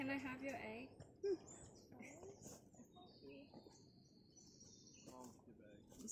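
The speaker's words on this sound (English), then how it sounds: "Oh, bird. Quail." Quail call in short chirping bursts at Purling Brook Falls in Springbrook National Park on the Gold Coast, faint and scattered against outdoor ambience, with people talking close by.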